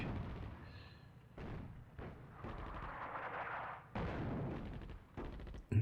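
Artillery barrage in the Attack at Dawn: North Africa video game, several deep booming blasts with rumbling tails, spaced a second or so apart, fairly quiet overall.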